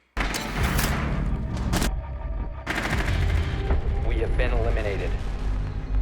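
Loud Rainbow Six Siege gunfire: rapid automatic bursts and single shots crackle one after another, with brief pauses and ringing game effects between volleys.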